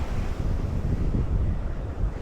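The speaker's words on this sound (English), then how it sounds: "I love the beach and the sound of the ocean" Ocean waves breaking at a beach with steady wind buffeting the microphone, a continuous loud rumbling wash with no clear individual wave crashes, heard alone.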